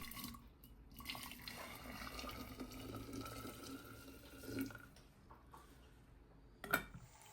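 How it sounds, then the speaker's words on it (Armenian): Pears being washed under a running tap, a steady quiet stream of water splashing into the sink, with a brief louder clatter near the end. "Տանձերը լավ լվանում ենք հոսող ջրի տակ"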